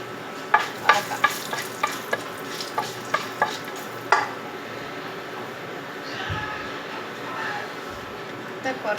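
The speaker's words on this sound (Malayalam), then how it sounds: "ഈ കറുവാപ്പട്ട, ഉച്ചയില, ഗ്രാമ്പു, ഇതെല്ലാം കൂടെ ഇട്ട് നമുക്ക് വറക്കാം" Whole cinnamon, bay leaf and cloves fry in a pan for egg biryani, giving a steady close sizzle with a run of sharp metal spoon clinks early on that gives way to quieter stirring.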